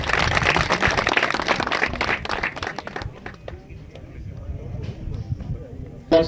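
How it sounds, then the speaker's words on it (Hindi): Applause from a crowd at a public event in Chamba greeting a government minister, a dense burst of clapping that thins out and fades midway, leaving scattered claps and a voice over the room. "आप सबकी जोरदार तालियां अवश्य बजनी चाहिए"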